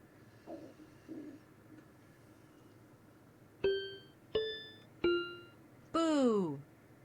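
A slot machine spin in the voice casino game Chatsino: three bright, evenly spaced ringing dings, then a longer falling chime sweep, fairly close, over a low hum, after a few soft earlier sounds.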